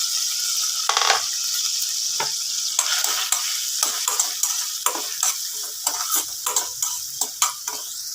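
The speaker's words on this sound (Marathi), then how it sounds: "नंतर आपल्याला कांदा मिरची टाकायची आहे" Onion and green chili frying in hot oil with cumin seeds, a constant close sizzle broken by repeated scraping and tapping of a spoon stirring against the pan, with no talking.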